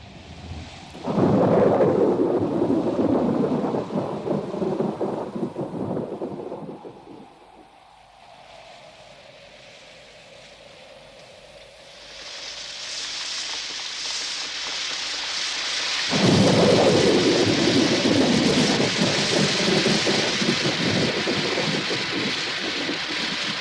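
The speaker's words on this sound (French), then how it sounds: "Regardez ces gros nuages qui arrivent. Il doit déjà pleuvoir sur l'autre rive." A cartoon thunderstorm with rain: a loud rumbling roll of thunder and heavy rain, a quieter lull in the middle, then a second powerful surge of thunder and downpour that carries on to the end.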